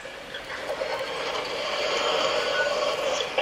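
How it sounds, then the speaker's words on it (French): A steady broadband whir from an MSI GL73 gaming laptop's cooling fan spinning hard under full graphics load, holding constant with a gentle rise in level and no speech. "on entend quand même un peu le ventilo"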